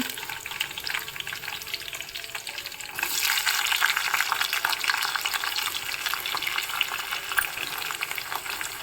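Onions added to hot oil with mustard seeds in a home kitchen, frying with a steady crackling sizzle that jumps noticeably louder a few seconds in and keeps hissing.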